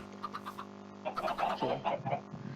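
Chickens clucking in the Minecraft 1.8.9 video game, a few soft short clucks at first, then a louder cluster of clucks and squawks, close and alone without talk.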